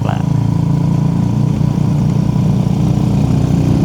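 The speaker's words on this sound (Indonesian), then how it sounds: "Ini knalpot udah enak sih sebenarnya, nggak bikin ngantuk juga" A motorcycle engine idling nearby, its exhaust putting out a steady low, throbbing rumble that holds evenly the whole time.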